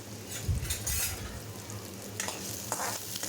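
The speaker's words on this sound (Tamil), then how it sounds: "எண்ணெய் சூடானதும் ரெண்டு பெரிய வெங்காயமாக இந்த சைஸில் கட் பண்ணி வச்சுருக்கேன் ஆட் பண்ணிக்கலாம்" Two large onions, cut into chunks, sizzle and fry in hot oil in a pan for a coconut-free chutney, with a steady crackling hiss and occasional stirring scrapes, close and continuous, no talking.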